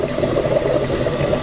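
Air hissing and bubbling out of an autoclave vent at about 97 degrees while jars of pork borscht are being canned, a steady, close, watery rushing sound with no voices.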